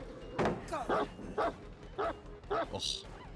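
A dog in the video game Dead by Daylight barks in a quick series of sharp, evenly spaced yaps, close and fairly quiet, with a brief high whine at the end.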